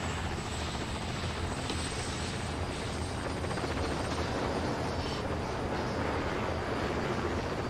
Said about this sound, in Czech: Taky jeden z prvních vrtulníků